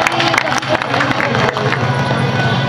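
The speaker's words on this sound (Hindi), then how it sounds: "तो एक बार दोनों हाथ खड़े करके तालियां बजाइए" An audience at a Hindi poetry recital (kavi sammelan) claps and cheers together in a dense, loud burst of applause mixed with crowd noise.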